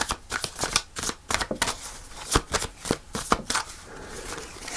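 Tarot cards being shuffled by hand during a reading, a close series of quick crisp riffling bursts and taps with short pauses between them, fairly quiet and with no speech.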